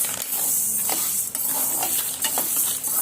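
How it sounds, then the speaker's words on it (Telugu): Black gram dry-roasts in a large pan while being stirred constantly, a dry rustling sizzle with quick scraping strokes and light clinks of the utensil against the metal. "మినుములు మాడకుండా వేయించుకోవాలి. మనం స్టవ్ దగ్గరే ఉండి కలిపెడుతూ ఉండాలి."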